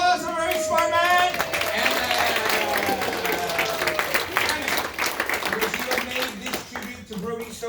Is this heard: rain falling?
no